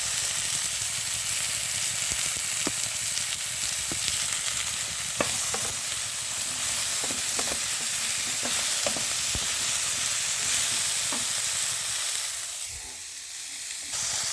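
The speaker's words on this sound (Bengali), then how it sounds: "সবজিগুলোকে সুন্দরভাবে ভাজা হয়ে গেছে" Spinach and vegetables sizzle steadily in a hot pan, a dense close hiss broken by scattered clicks of stirring, easing slightly toward the end.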